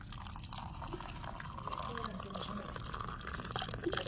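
Hot water is poured into a drinking glass to make tea, a continuous trickling, bubbling pour lasting several seconds at close range with a rising liquid tone.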